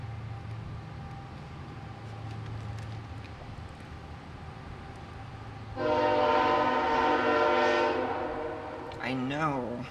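A passing train rumbles low for several seconds, then sounds a loud, sustained horn blast that ends with a short wavering tail, fairly close.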